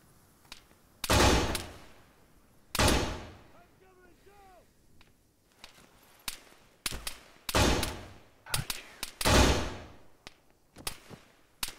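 Repeated loud gunfire bursts from the video game Arma 3, with a machine gunner firing during a firefight; broadband cracks and longer rattling volleys come in irregular clusters, with a faint whistling tone between shots.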